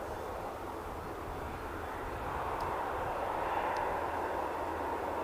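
A SunExpress airliner departs Manchester Airport for Antalya, its engines a steady, moderately distant broadband roar that holds even throughout, with no voices over it.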